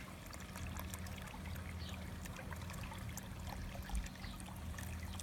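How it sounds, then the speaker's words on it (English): Water that has been warmed in a solar irrigation pipe runs from the outlet into a jug with a faint, steady trickle and splash. The sound is quiet and continuous, with light outdoor background noise behind it. "And just fill that jug up all the way up to the top"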